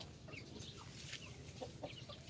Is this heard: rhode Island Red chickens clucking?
yes